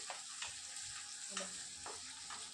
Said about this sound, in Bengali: তো আমার তেলের ওপরে পেঁয়াজটা দিয়ে দিয়েছি